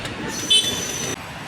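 A train at Marine Lines railway station in Mumbai rolls past with steady broadband rumble and a brief high wheel squeal, heard fairly close with no talk.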